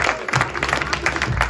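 Brief burst of audience clapping and cheering in a comedy bar in Brest during a humour night, close and busy with overlapping claps.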